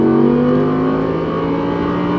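An Audi R8 V10 accelerating on a race track, its engine note loud and close, a strong steady drone with rising harmonics as the throttle opens out of a corner.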